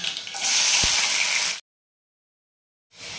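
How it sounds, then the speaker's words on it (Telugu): Mustard seeds crackle and splutter in hot oil in a pan, a loud dense sizzle for about a second and a half, then silence before the frying noise returns. "ఆవాలు చిటపట అంటున్నాయి"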